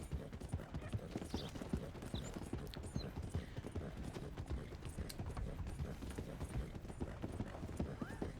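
A horse gallops at full speed in Red Dead Redemption 2, its hooves drumming a rapid, continuous rhythm over a low rumbling bed of outdoor ambience, steady and moderately close throughout.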